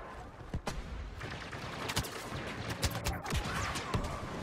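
Blaster gunfire crackles in the Star Wars: Battlefront video game, dense overlapping shots and sharp cracks over a constant battle din, fairly loud and continuous.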